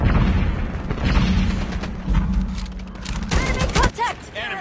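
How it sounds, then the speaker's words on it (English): A grenade blast mixed with rapid gunfire in a Call of Duty battle, dense booming and crackling shots rolling loudly throughout, with shouted voices and radio-style callouts cutting in over the chaos near the end. "Grenade out!"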